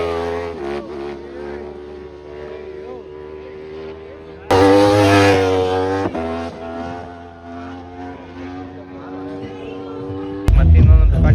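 Motorcycles in the wheelie class at a drag meet, engines revving in rising, falling bursts, with a louder near pass partway through and another loud burst at the end, as people talk nearby.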